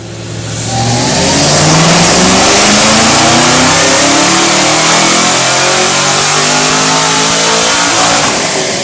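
A Chevrolet Camaro ZL1 running on E85 makes a full dyno pull, its engine rising from a low drone into a loud, sustained rev that climbs steadily in pitch for several seconds, close and overpowering, with no voices.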